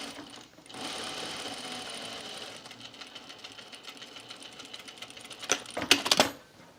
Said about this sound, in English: why aren't you winding bobbins on the machine?